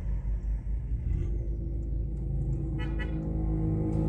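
A Kawasaki Z1000 motorcycle arrives with a deep, continuous engine rumble that stays loud and close throughout, with a faint higher whine rising toward the end.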